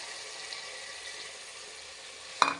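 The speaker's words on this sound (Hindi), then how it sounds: "हमारा ऑयल जो है ना फुल गर्म है। अभी हम इसमें प्याज डालेंगे।" Onions frying in very hot oil give a steady soft sizzle throughout, with a sudden sharper crackle near the end.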